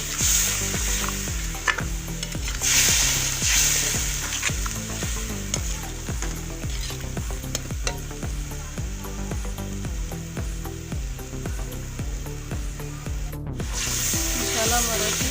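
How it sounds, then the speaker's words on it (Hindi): Masala for aloo methi sizzles and fries in a pan while a spoon scrapes and stirs it in a steady rhythm of repeated strokes, loud and close, with no voices. "मसाला हमारा अच्छी तरह फ्राई हो गया।"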